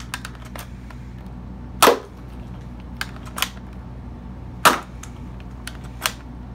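A Nerf Hammershot blaster fires standard Elite foam darts: two sharp, loud shots several seconds apart, with lighter mechanical clicks and clacks of the blaster being handled between them.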